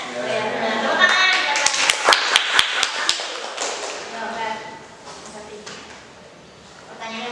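Students in a classroom clap in a short burst of scattered, sharp claps over a murmur of voices, with people talking throughout before and after the applause.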